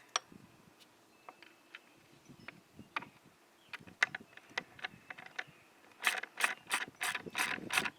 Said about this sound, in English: you can use this tool, or you can use a ratchet. The reason I use a ratchet is it's much faster.